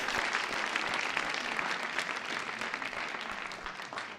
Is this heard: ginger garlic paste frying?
no